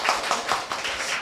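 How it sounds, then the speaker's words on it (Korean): An audience claps at a live public podcast recording of a book salon: a short burst of scattered hand claps with a few distinct accents, fairly close and moderately loud, with no talking. "박수 한번 치면서 시작해볼까요?"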